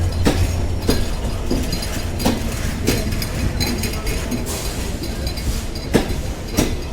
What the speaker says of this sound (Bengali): লোকোমোটিভ 66-27 খুলে 66-6 নিয়ে পার্বতীপুর থেকে ঢাকার উদ্দেশ্যে ছেড়ে যাবে।